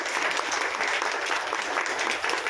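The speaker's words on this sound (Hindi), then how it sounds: "जोरदार तालियों से स्वागत कीजिए" An audience at an international Hindi convention in Goa claps loudly and continuously to welcome the chief guest, a dense, steady wash of applause with no pauses.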